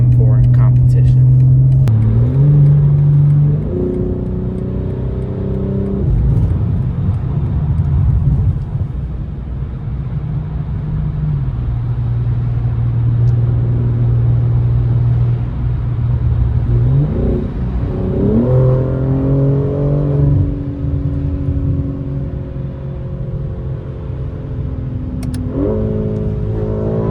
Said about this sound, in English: One last final drive in the BMW M4 Competition.